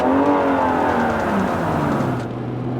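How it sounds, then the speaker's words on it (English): BMW M235i engine revving close up, a smooth, full-bodied note that swells and eases over a few seconds with no talking. "It just feels creamy and it sounds lovely, this engine"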